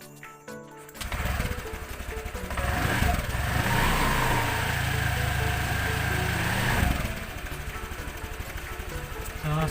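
A Honda Vario 125 scooter engine starts after a brief clatter, then settles into a steady, close buzzing idle with a busy, rattly mechanical tone that holds for several seconds.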